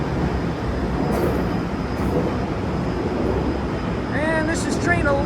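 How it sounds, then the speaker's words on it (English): LIRR train 1154, a 10-car set, rumbles past in a steady, loud wash of wheel and car noise, with squealing wheel tones rising near the end. "And this is train 1154."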